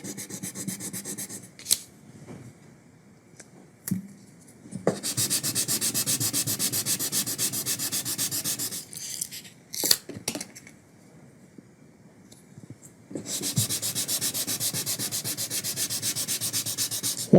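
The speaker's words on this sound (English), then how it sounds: "So just glue one to your hard block and lightly sand till you get up to 3000." Fine sandpaper on a hard block dry-sands the finish of a guitar soundboard, steady back-and-forth scratchy rubbing in long sustained passes broken by short pauses and taps, close and even.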